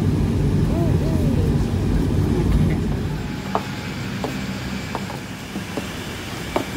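A passenger airplane that has just landed at Port Harcourt gives off a loud, steady engine rumble that fades somewhat partway through. Scattered clicks and faint voices sit under it.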